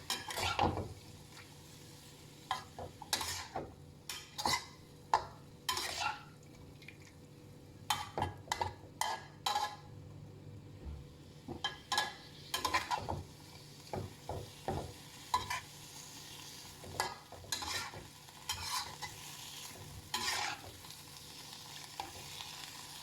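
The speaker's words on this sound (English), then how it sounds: "So I will stir fry it until it's getting softer and softer." Vegetables stir-fried in a pan at home, with repeated sharp scraping and clattering strokes of a utensil against the pan over a steady low sizzle, close and fairly loud with no talking.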